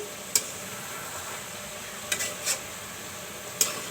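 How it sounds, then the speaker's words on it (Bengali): Mixed vegetable curry with cauliflower and beans is stirred in a pan, giving four short metallic scrapes and clinks over a faint background hiss, with quiet gaps between them. "সবজিটা নাড়া দিয়ে দিচ্ছি"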